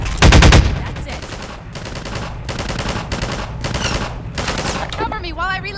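Automatic gunfire in Half-Life 2, loud rapid bursts in repeated volleys with short gaps, ending in chirpy electronic effects.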